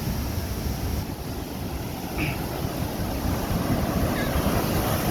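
Water gushing and roaring out of the overflowing Ban Man reservoir (Huai Takhro) after days of rain, a steady, loud broadband rush that continues unbroken, with wind buffeting the microphone.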